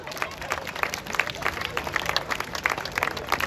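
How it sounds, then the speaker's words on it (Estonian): Audience applause after a song at a live music concert, a dense steady patter of many hands clapping close by for several seconds, with faint crowd noise mixed in. "Aplaus peab olema pikem kui laul."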